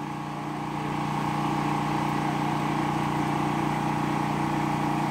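Electric water tank pump motor running steadily, a constant mid-pitched hum with a strong tonal drone, even and unbroken, close by and moderately loud, with no voices over it.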